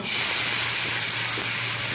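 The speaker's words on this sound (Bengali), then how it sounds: "কড়াই তেল আছে ওর মধ্যে আমি এবার উচ্ছেগুলো দিয়ে প্রথমে একটু ভেজে নেব" Bitter gourd drops into hot oil in a wok and fries with a loud, steady sizzling hiss throughout.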